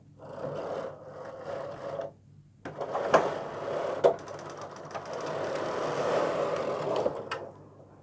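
A knitting machine carriage is pushed across a single row, making a steady mechanical clacking and whirring close by that runs for several seconds, then stops and starts again briefly.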